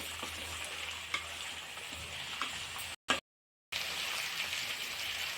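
Onions and green chillies sizzle in a hot pan while being stirred, a close, steady crackle with a few sharp scrapes and clicks and one brief silent gap.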